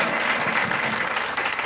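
Church congregation clapping loudly and steadily for Jesus Christ during an evening preaching service, a dense, continuous burst of applause from a crowd.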